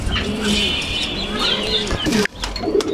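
Racing pigeons, a red checker hen and cock pair, coo softly and rustle up close, with bursts of wing flapping and one sharp flutter near the end. Other pigeons murmur in the background.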